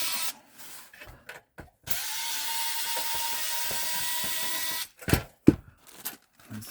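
A cordless electric screwdriver whirs steadily for about three seconds while backing screws out during a Sony PS3 Slim teardown, preceded and followed by short bursts, clicks and handling knocks.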